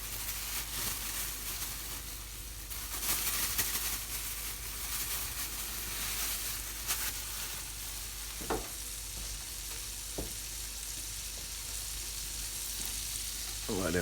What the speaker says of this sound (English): to the butter, just adding a good handful of bacon pieces.